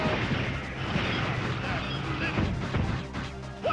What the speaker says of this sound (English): Maybe not, but I'm gonna shoot it anyway.